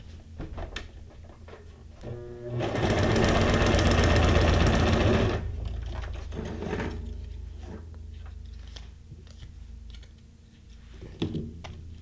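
A sewing machine runs a straight stitch in a steady, loud whirring burst of about three seconds, framed by softer clicks and handling of paper and fabric close by.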